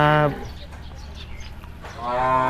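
Brahman crossbred cattle at a farm in Lamphun, Thailand, giving two loud, drawn-out moos, one at the start and one at the end, with quieter farm background noise in between.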